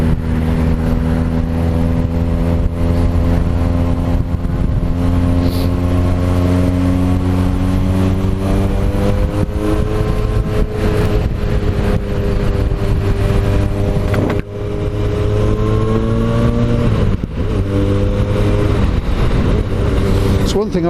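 Heard from the rider's seat, a motorcycle engine drones steadily on the road near Salisbury, its pitch rising as it accelerates and dipping briefly at a gear change, with wind rush throughout and a rider talking over it.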